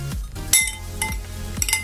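Quick clinks and scrapes of a utensil against a bowl, mixing eggs for batter, a few rhythmic strokes close by, with no talking.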